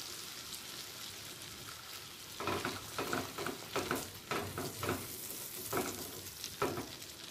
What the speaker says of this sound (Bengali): এটাতে আরেকটুখানি জল দিয়ে আমি শুধু সর্ষে বাটা জলটাই দেব।